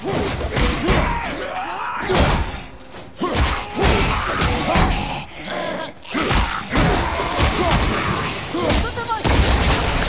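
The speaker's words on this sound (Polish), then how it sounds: "zapominam, że oni wybuchają." Dense, continuous booming and blasts from combat in God of War, with rapid thuds and crashes layered throughout and no pause.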